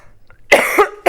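A woman presenting a fabric sewing sales show gives a couple of short, close coughs followed by a throat clear, loud and alone with no speech over them.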